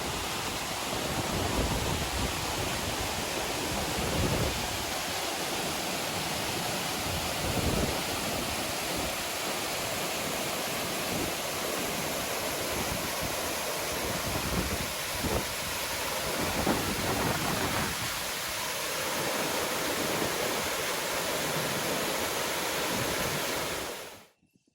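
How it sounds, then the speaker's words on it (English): A jungle waterfall pours in a dense, constant roar that stays even and unbroken for the full length, with no voices, before cutting off abruptly at the end. "what you just saw there was the waterfall that's in the jungle"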